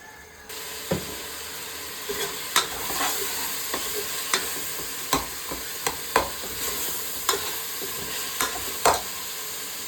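Chicken and dal being stir-fried in a pot, a steady close sizzle broken by repeated sharp scrapes and clacks of a spoon against the metal, roughly every half second to second.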